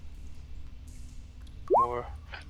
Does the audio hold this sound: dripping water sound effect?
yes